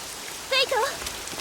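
Rain falls in an anime audio drama scene, a soft steady hiss running beneath a voice speaking close by.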